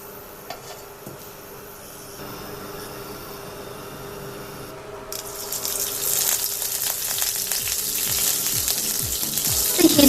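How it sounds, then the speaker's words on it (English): Cooking oil heats in a pan for stir-fried bok choy: a quiet background first, then a steady frying sizzle that rises and grows louder and denser over the second half, with a few soft clinks near the end. "Now add the cooking oil and heat."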